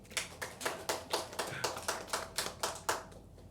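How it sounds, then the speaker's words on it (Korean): A small church congregation at a Wednesday service claps in a slow, even rhythm, about a dozen distinct claps spaced evenly, fairly faint and roomy with no talking. "우리 그래도 담대하게 예배를 위해서 섬기신 우리 권사님을 위해서 박수 한번."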